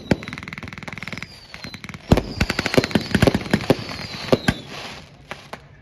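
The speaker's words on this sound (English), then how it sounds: "the Allied counterattack moves forward with both M3 and M16 quad machine guns" M3 and M16 quad machine guns fire during an outdoor WWII reenactment at a thresher show, with sharp, rapid bursts of cracking shots that grow denser and louder, echoing across the field.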